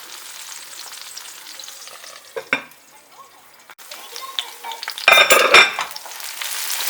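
Onions frying in a covered pan crackle softly, then a few loud bursts of scraping and sizzling come as they are stirred, with the spoon knocking against the pan.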